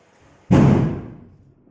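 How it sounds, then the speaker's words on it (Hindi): A single firecracker goes off outside with one sharp, heavy bang that rings out and fades over about a second, heard against near silence. "मैं ये शोर के लिए आपसे माफी मांगना चाहूंगी बाहर, क्योंकि पटाखे बज रहे हैं,"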